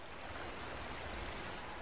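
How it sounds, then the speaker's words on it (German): Waterfall in the Diablo 3 Reaper of Souls oasis area, a steady broadband rushing roar of falling water, continuous and even with no pauses or voices. "Wasserfall."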